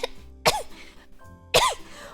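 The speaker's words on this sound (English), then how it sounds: "Why did I cough immediately when I was about to say her name?" Two short, harsh coughs about a second apart, close to the microphone, over a faint background hum, with no talking.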